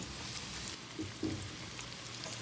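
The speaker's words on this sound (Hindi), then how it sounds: "चिकन क्यूब के साथ ही हम इसमें ये फ्राइड चिकन डालेंगे सारी, अच्छे से इसको टॉस करेंगे, सौटे करेंगे" Fried chicken pieces and square-cut onions sauté in a pan with a soft, steady sizzle. A few faint stirring scrapes break through the low frying hiss.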